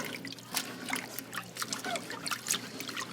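Greens are rinsed in salt water in a clean kitchen sink, with close, continuous trickling and light splashing as water moves through the leaves.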